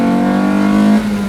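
A nimble, light car's engine revs hard and steadily close up during a drive, holding a strong droning note before easing off near the end, with no talk over it.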